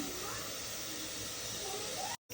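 Moong dal lentils fry with garlic, chilli, onion and tomato in oil in a pressure cooker, making a steady close sizzling hiss that cuts off abruptly near the end.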